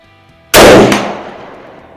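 A single loud, sharp rifle shot from a custom Mosin Nagant firing hand loads at steel targets, with a quick second crack and a long ringing, echoing decay fading out afterward.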